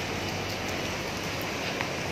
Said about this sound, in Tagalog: Umaga pa, lakas na ng ulan.